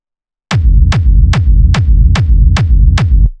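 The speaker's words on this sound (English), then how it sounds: "which you can hear has a rumble in it." After a brief silence, a loud techno kick drum pounds in a steady even beat, seven heavy hits with clicky transients and a deep rumbling low tail that blurs between strikes, heard alone and close.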